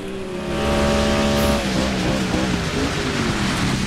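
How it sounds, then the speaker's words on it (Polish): An electric Audi racing across ice and snow in the Dirt 5 video game, a steady, loud electric whine and motor hum that gives way to rough, scrabbling tire and surface noise, with no talking. "Jedziemy sobie po lodzie i śniegu."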